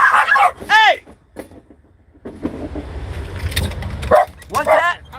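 A dog at a Nashville, Tennessee spot gives a couple of loud barks, then more barks after a stretch of outdoor rumble and traffic noise, with a person's voice mixed in.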